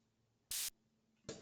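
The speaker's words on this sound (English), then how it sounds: "This is just purely a white noise." Two short bursts of pure white noise serve as a hi-hat sample for drum and bass: a bright hiss lasting about a fifth of a second, and then a second, softer burst that is cut off at the end.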